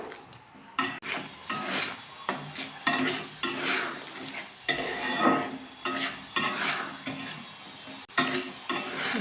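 A spoon stirs mustard paste ground with garlic and green chillies in a pan, giving repeated scraping strokes and soft sizzling at a steady rhythm, close and clear with no talk.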